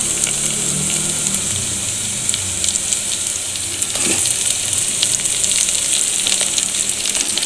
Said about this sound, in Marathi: आता यामध्ये वांगे टाकून घेऊयात आणि ते व्यवस्थित परतून घेऊयात।